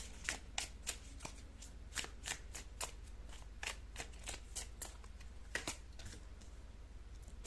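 Tarot cards being shuffled and drawn, a close, quiet run of crisp riffling flicks and soft card snaps in an uneven rhythm, with no talk over it.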